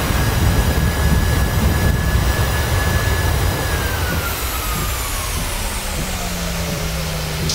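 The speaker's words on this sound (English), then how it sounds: "Reverse thrust." Boeing 737 jet engines roar in reverse thrust just after landing at São José do Rio Preto, a loud continuous broadband rush with a whining tone that slides downward as the engines spool down.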